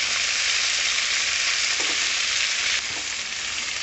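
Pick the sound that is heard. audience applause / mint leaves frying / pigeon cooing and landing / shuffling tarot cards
mint leaves frying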